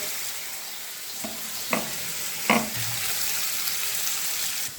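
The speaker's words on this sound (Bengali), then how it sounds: "একটা পেঁয়াজকে যেমন ইচ্ছা এরকম লম্বা লম্বা করে কেটে পেঁয়াজগুলোকেও আলুর সাথে ছেড়ে দিয়ে" Sliced onions and potatoes fry together in a pan for a chow mein dish, giving a continuous close sizzle broken by a couple of sharp clatters of a utensil against the pan, with no talking.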